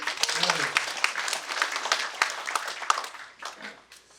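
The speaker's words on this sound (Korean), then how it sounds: "여기서 박수 한번 치실까요?" Lecture audience at a university talk on Yi Sun-sin's leadership breaks into clapping, a scattered, moderately loud patter of many hands with sharper individual claps, while a voice speaks briefly at the start and the applause tapers toward the end.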